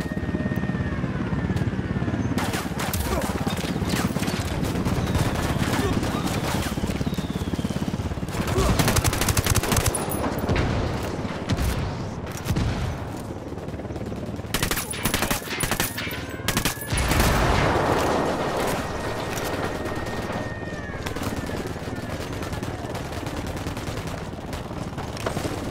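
Ghost Recon Wildlands firefight: dense bursts of automatic gunfire and sharp single shots crackle back and forth, loud and close, with a helicopter-like drone and brief radio-style voices among the shooting.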